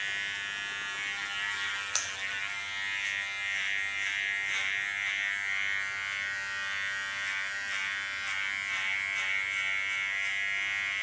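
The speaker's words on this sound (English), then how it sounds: "with a clipper it's very easy to work" An electric hair clipper buzzes steadily and close by while cutting a bob hairstyle, with one sharp click early on.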